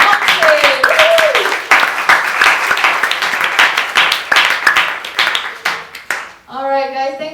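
Loud, dense applause and clapping from a live audience at a music interview show, rising in bursts, with a voice speaking over it and cheers near the end.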